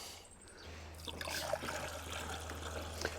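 Water trickling and splashing as it pours, faint and continuous over a low electrical hum, with no one speaking.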